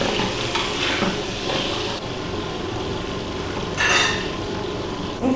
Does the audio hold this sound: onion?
yes